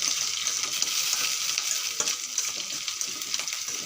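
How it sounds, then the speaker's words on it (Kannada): Onions crackling in hot oil in a pan for rajgira greens, with a steady close sizzle broken by light stirring scrapes, loud and continuous. "ಈರುಳ್ಳಿ ಸ್ವಲ್ಪ ಅಲುಗಾಡಿಸುತ್ತಿರಬೇಕು."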